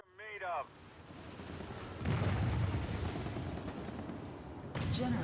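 A generator blowing up in PlanetSide 2, a heavy explosive roar that rises after a brief voice and rumbles on, with another burst near the end.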